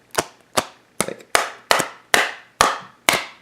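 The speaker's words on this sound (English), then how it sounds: "that's me like really smacking it, dinging it, and there's like no signs of denting or damaging." Eight sharp, hard smacks on a rigid plastic Final Fantasy trading card, evenly spaced about every half second, close and crisp with no voices.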